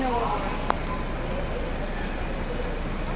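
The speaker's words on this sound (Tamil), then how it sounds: "மழை" Heavy rain pours down near the Porur toll plaza in Chennai, a loud, dense, steady hiss of drops close by, with a single sharp tap in the middle and no clear talk.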